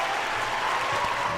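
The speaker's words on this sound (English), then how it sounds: "Let's give her a round of applause." Brief burst of audience clapping, a dense, even wash of many hands that holds steady for a moment without any voice over it.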